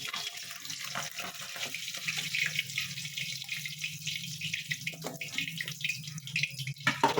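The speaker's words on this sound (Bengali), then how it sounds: "মাছটা ভালো মতন ভাজা হোক" Steady hissing sizzle of tangra fish frying in a pan, a continuous bright crackle holding at an even level from start to finish.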